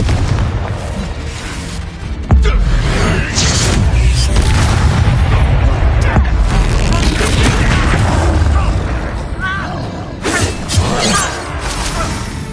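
Explosive spell blasts in Hogwarts Legacy combat, loud booming bursts and crashes over dense game action, with a voice speaking between the hits.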